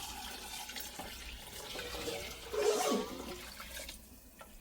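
Water poured into a pot for beef seaweed soup in a home kitchen, a faint steady splashing stream that swells briefly midway before tapering off.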